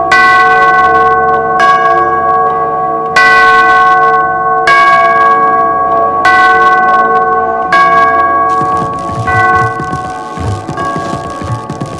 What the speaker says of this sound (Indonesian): Jika jam mulai dari membangunkan lonceng gereja, kemudian mereka memulai membunyikan lonceng itu dengan sendirinya